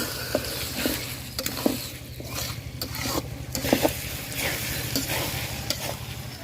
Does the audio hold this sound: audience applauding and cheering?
no